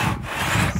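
Brief rasping stroke of a two-man crosscut saw biting through wood, a close, rough scraping sound.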